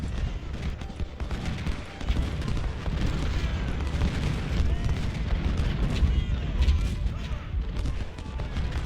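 Civil War cannon artillery in Ultimate General Civil War at the Siege of Suffolk, with continuous overlapping booms and rumbling fire blending into a dense, loud barrage that never lets up.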